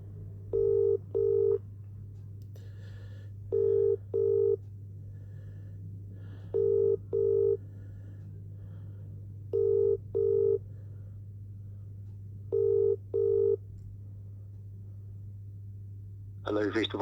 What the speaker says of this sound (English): I'm now ringing you Mr. Smith of DWF.